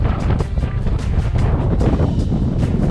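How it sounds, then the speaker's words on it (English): Strong wind buffets the microphone while bikepacking through the Ardennes in Belgium, a loud, continuous roaring rumble with gusty bursts that drops off abruptly at the end. "It's super windy"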